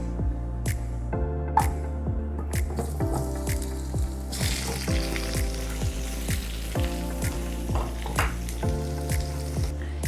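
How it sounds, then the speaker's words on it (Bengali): Pumpkin pieces fry in oil in a wok, with a continuous close sizzle broken by repeated rhythmic scraping and stirring strokes of a spatula against the metal, loud and without talk. "আমি মিষ্টি কুমড়োটা এখন ভেজে নেব।"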